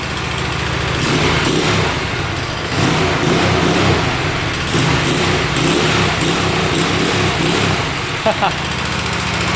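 A used $150 motorcycle's engine runs steadily and loud, a continuous rough, buzzing drone with slight rises in pitch, heard close up with speech over it.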